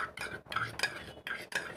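A spoon stirring fresh cream into rajma gravy in a pan, a series of soft scraping and clinking strokes in an uneven rhythm, close and quiet.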